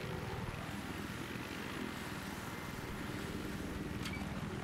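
In the video game Battlefield 3, an attack helicopter drones on with a steady, dense rotor and engine roar throughout, loud and unbroken, with no talk.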